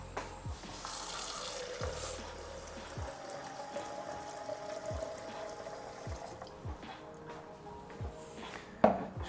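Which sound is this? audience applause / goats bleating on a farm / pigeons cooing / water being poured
water being poured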